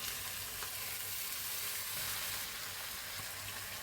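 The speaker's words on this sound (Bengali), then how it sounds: "আমি মশলাটা সম্পূর্ণ তেলে ভাজা ভাজা করে নিচ্ছি।" Vegetable stems and spices frying in oil in a village-style kitchen give a steady, dense sizzle with a faint low hum underneath, continuous and close throughout.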